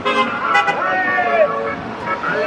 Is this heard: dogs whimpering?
no